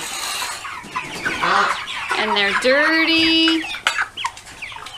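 Meat chickens seven weeks old cluck and squawk close by, with rising, warbling calls overlapping, while a person speaks briefly at the end.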